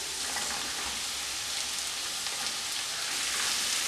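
Potatoes and onions frying in oil in a pan, a continuous soft sizzle and hiss that holds steady throughout.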